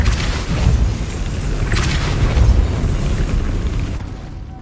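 Depulso spell cast in Hogwarts Legacy, a loud rumbling blast that swells and roars for several seconds before fading out.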